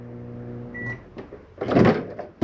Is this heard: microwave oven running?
yes